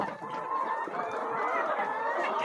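Poultry-farm chickens clucking as they feed hungrily, a dense overlapping chorus of clucks and murmurs from many birds nearby, continuous and fairly loud.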